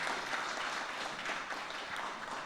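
An audience at a church children's choir and solo award ceremony applauds, a steady even wash of clapping, faint and somewhat distant, with no voices over it.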